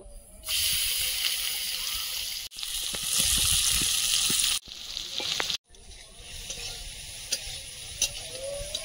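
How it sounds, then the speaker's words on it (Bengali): Prawns fry in hot oil with a loud, broad sizzle that starts and stops in several bursts, broken by short pauses and a few clatters as they are stirred in the pan. "চিংড়িটা ভেজে নেব।"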